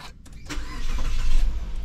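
A Mitsubishi Xpander engine cranks briefly and catches after a transmission fluid change, then settles into a steady, smooth idle close by with no talking.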